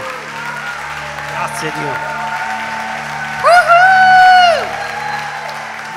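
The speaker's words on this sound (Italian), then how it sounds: "fategli un applauso" Church congregation applauding a preacher after a gospel sermon in Milan, a steady wash of clapping under a voice speaking, with a brief loud burst of cheering or singing near the end.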